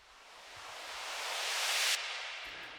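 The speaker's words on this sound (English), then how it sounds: "These are just smooth risers to help you with adding some" Smooth synthesized riser transition for a music arrangement, a broad noise sweep swelling steadily louder over about two seconds before cutting off abruptly, followed by a faint tail.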